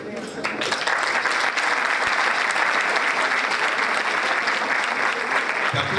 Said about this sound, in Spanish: Te aplaude